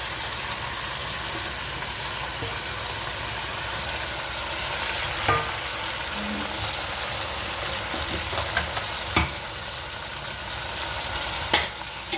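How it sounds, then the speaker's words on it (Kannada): Tomatoes frying in a pan for tomato chutney, a loud, steady close-up sizzle throughout with a few faint clicks and scrapes from stirring. "ಟೊಮೊಟೊ ಕಾಯಿ ಹಾಕ್ತಾ ಇದ್ದೀನಿ."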